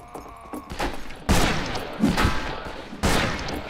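Gunshots in the Western shooter Fistful of Frags, three loud separate bangs spaced about a second apart over a low background of game noise.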